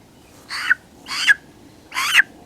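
Three short, harsh bird calls from an unidentified wild bird, evenly spaced about half a second apart, each rising to a sharper peak at its end, fairly close and clear with no other sounds around them.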